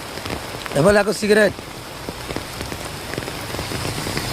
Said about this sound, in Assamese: ইমান বৰষুণত ভিডিঅ' কৰি আছোঁ, মই ভিজি গৈ আছোঁ ভিডিঅ' কৰি।